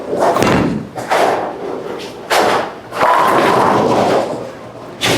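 A Hammer Special Effect solid-coverstock bowling ball is thrown down a bowling alley lane, giving a series of heavy thuds and a rolling rumble amid the loud, echoing bustle of the alley.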